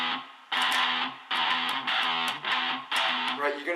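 Guitar picked in triplet groups with an overly tight grip, giving harsh, uneven bursts of notes that stop and restart about five times, loud and close with no talking.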